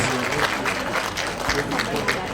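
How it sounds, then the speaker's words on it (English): An audience at a school project inauguration ceremony in Srinagar claps in a sustained burst of applause, with voices mixed into the crowd noise. "Give a huge round of applause."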